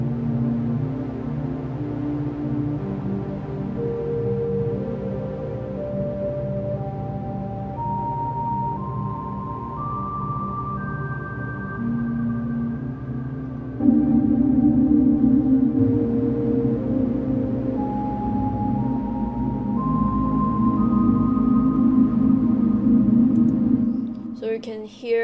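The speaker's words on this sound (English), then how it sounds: "in this analog motion it is also sounds like a pad sounds with some movement" A UVI Analog Motion synth pad preset swells with slow movement, stepped tones climbing upward over a steady low drone, growing thicker and louder halfway through before cutting off abruptly at the end, no voice.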